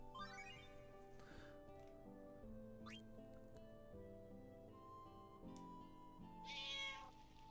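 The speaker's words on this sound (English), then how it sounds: "It's a loud-ass cat." A cat meows in the Final Fantasy IX video game, with a few distinct meows over soft game music and chiming effects, heard faintly and without talk.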